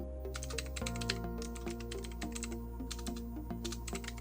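Rapid keystrokes on a computer keyboard as a new password is entered, steady quick tapping up close over a low constant background hum.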